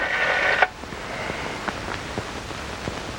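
Telephone dialing indoors: a brief tone burst at the start, then a string of faint, evenly spaced clicks from a rotary dial, close and quiet against a low room hiss.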